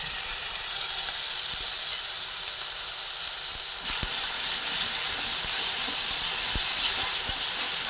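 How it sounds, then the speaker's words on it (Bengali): Sour yogurt poured into a hot pan of frying spices makes a loud, steady hiss that fills the whole stretch, with a few faint taps of a spoon underneath and no voices. "এরপরে আমি টক দই রেখেছি টক দইটা এর মধ্যে দিয়ে দিচ্ছি"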